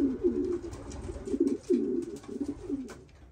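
Racing pigeons at the loft giving low rhythmic coos in repeated phrases, close and moderately soft, with no voices over them.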